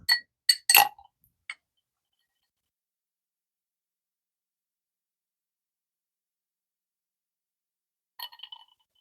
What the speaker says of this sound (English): Put a little ice in there and see what happens.